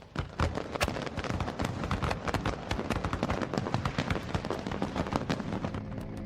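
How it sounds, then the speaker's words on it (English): A fireworks display crackles and bangs in a dense, continuous barrage of sharp bursts and popping reports, loud and close throughout with no pauses. "Fireworks are one of our most enduring customs that moved us for centuries."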